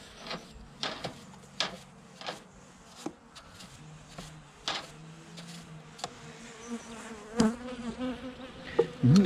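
Honeybees buzz at a hive during a February winter inspection, a thin hum woven between sharp brushing, scraping and knocking sounds from handling the box, with a few louder angry buzzes rising near the end.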